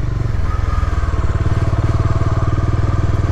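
A motorcycle fitted with Maddog Scout X 40-watt auxiliary lights rides along, its engine chugging in a close, loud, steady pulsing rhythm.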